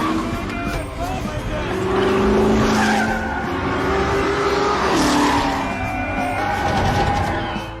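A Ford GT40 race car tears along at racing speed, its engine roaring loud and close with rising and falling revs, tires squealing and skidding through hard cornering, while voices talk over the din.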